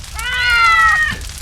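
A cat gives a single clear, rising-then-falling meow, loud and close, lasting about a second over faint background noise.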